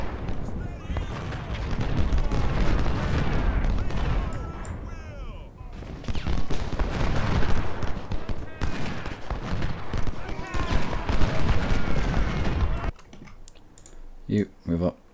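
Rolling musket volleys and cannon fire crash through a Civil War battle at Chancellorsville and Salem Church in Ultimate General: Civil War, dense and sustained for most of the span before cutting off near the end, with talking over it.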